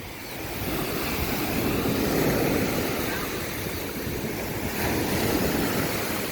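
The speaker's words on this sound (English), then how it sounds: "Watch the waves crashing." Ocean waves crash and wash steadily onto a Florida beach in a continuous broad roar with gentle swells, recorded close by with some wind rumble against the microphone.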